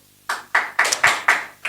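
Sharp bursts of clapping in quick separate rounds, about six claps over under two seconds, fairly loud and close, from an audience at a spiritual healing ministry gathering, with no talk over them.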